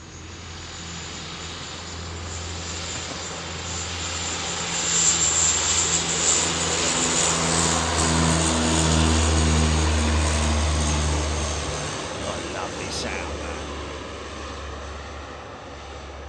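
A freighter aircraft climbs steeply after takeoff from East Midlands Airport at night, its engine roar swelling from a distant drone to a loud peak midway and then fading away, with no voices.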